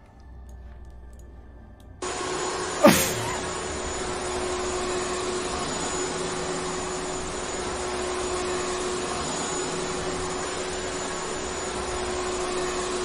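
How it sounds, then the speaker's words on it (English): A video game vacuum cleaner used to unclog a drain, switching on with a sharp click and then droning as a steady, loud whine that holds unchanged to the end. "All it took is a vacuum to stuff it down the drain."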